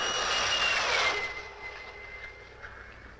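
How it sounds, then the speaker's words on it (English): A jet fighter aircraft roars past in a film soundtrack, a loud broad rushing whine that peaks early and then fades away into the distance, with no voices. "even to the piercing eye of radar and the speeding jet"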